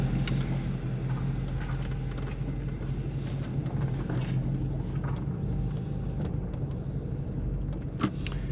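An Infiniti M56 fitted with PPE headers and exhaust rumbles continuously while driving, a steady deep engine drone with road noise and faint clicks, no talking.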